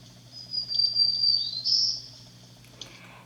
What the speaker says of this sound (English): here is a song of a black-throated green warbler